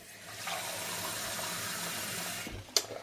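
Water rushing through a Sawyer Mini water filter during a backwash, a steady close gushing stream lasting a few seconds before cutting off, followed by a brief plastic clack.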